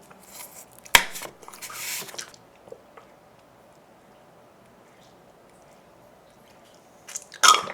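Crunchy bites and chewing of Isaac Toast sandwiches filled with egg, corn and cabbage, with a few close crisp bites near the start and another at the end, separated by quiet mouth sounds.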